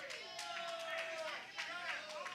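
Wrestling crowd in an arena cheering and roaring after a new champion is crowned, a dense swell of voices and whistles under an excited commentator talking over it.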